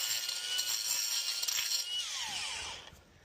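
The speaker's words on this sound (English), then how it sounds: "Just going to use the best grinder in the world and carve out some of these cracks." An angle grinder carves cracks out of exterior masonry to stop damp, a loud, close, steady high whine that shifts pitch as it bites and then cuts off near the end.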